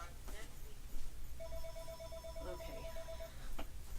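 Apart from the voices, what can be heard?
telephone ringing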